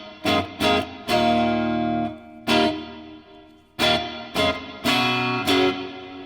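Electric guitar through a NuX Mighty Plug headphone amp with plate reverb, played as a run of bright, distorted strummed chords and short stabs, each ringing out into a smooth stereo reverb tail, close and loud with no voices.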